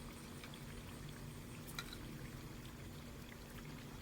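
Flour and water mixture poured slowly into a pot of simmering chicken nihari, a soft continuous liquid trickle under a low steady bubbling hum, fairly quiet and unbroken throughout.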